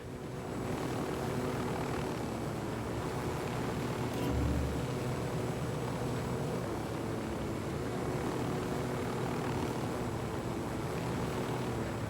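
A helicopter in Ghost Recon Wildlands flies with a steady, loud rotor-and-engine drone, an unbroken whir filling the whole stretch with a brief thump partway through.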